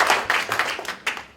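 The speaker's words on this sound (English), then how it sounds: "she deserves a bit of a bit round of applause" An audience at a data festival talk gives a short round of applause, a dense patter of clapping with a few sharper claps standing out, close and fairly loud.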